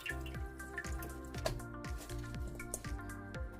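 Blanched green onions squeezed by hand, sending water dripping and splattering into a kitchen sink in a quick, irregular series of close, quiet wet drips and trickles.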